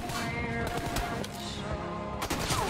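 Rapid automatic gunfire during jump-shooting in Peacekeeper Elite, loud and close, with dense bursts of shots running almost continuously and a brief lull before firing resumes.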